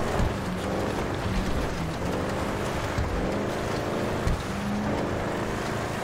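A Sabre Turbo custom car engine drifting through traffic and snow in GTA Online, a continuous loud rumble with shifting tonal pitch sweeps as revs rise and fall, with a brief thump midway.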